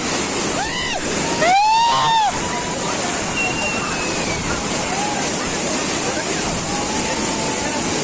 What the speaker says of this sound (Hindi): तो यहाँ पे देख सकते हो झरना कितना जबरदस्त चला थे